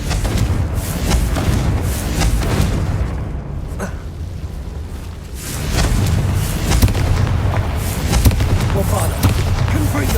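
Confringo fire spells blasting in Hogwarts Legacy, a run of loud booming explosions with rumbling low-end thuds that keep coming, briefly thinning in the middle before the barrage resumes, with voice in the background.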